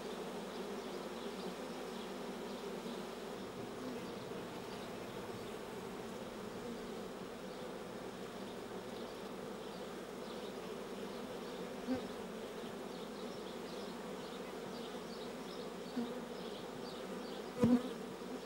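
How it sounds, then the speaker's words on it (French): A honey bee swarm enters an empty hive, giving a steady, dense buzzing hum throughout, with a few brief louder knocks near the end. "Les abeilles ne se font pas prier et les gardiennes signalent même l'entrée en émettant l'odeur de la colonie"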